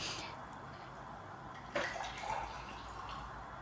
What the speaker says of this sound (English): I take out the steamed water from the beetroot